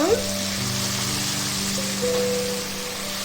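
Brinjal pieces fry in a pan with turmeric, giving a steady, close hissing sizzle that stays even across the short stretch, with a faint low hum underneath.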